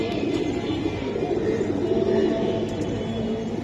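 Pigeons kept for sale at a market, including flying and colour breeds, coo softly in a low, continuous murmur, several birds overlapping in a steady hum close by.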